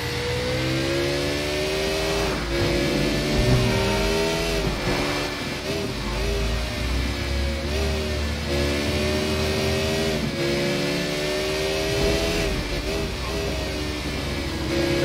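A car engine in the Sleeping Dogs video game drones and revs steadily during driving, pitch rising and falling through gear changes over continuous road noise, with no talk.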